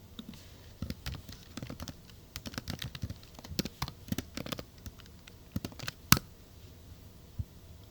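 Code being typed on a computer keyboard: irregular bursts of close, crisp key clicks with short pauses and one sharper keystroke near the end, with no talking.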